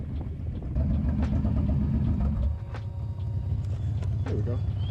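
A motorcycle riding down a street, giving a close, low, rumbling engine drone that swells and then settles, with no one speaking.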